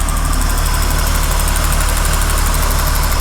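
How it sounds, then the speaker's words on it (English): An Acura car engine idles close by, loud and steady, with a continuous rumbling drone and a fine rhythmic vibration throughout; no voices. "I have the Acura going right now, going strong. You hear that engine?"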